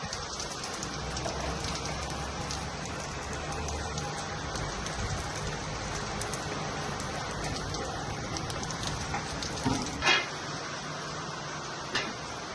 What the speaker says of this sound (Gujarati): હાલ પણ વરસાદ ચાલુ જ છે અમદાવાદમાં